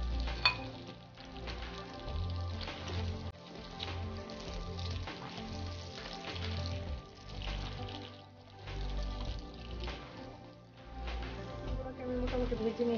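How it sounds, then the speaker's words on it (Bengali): A spoonful of chopped garlic fries in melted butter for a creamy chicken Alfredo, giving a steady close sizzle and crackle with occasional stirring. A voice talks over the frying. "এখন এতে আমি দিয়ে দিচ্ছি 1 টেবিল স্পুন রসুন কুচি। এটাকে ভালো করে ভেজে নিতে হবে।"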